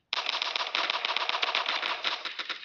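Rapid automatic gunfire from a shooter video game fires in one sustained burst lasting nearly the whole moment, loud and close, the shots running together in a fast rattling rhythm with no talk over it.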